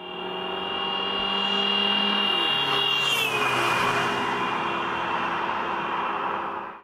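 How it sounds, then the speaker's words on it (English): A car passes close by, its steady engine tone swelling and then dropping sharply in pitch as it goes by, followed by a fading roar. "When the car passes us, we hear a distinct drop in pitch because the sound waves are now spread out by the car."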